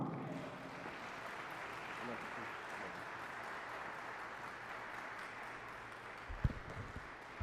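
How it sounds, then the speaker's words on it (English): A religious gathering's audience gives a steady round of applause to welcome a minister to the podium. The clapping is faint and continuous throughout, with a brief thump near the end. "please greet him with a round of applause, Minister Marcus Muhammad."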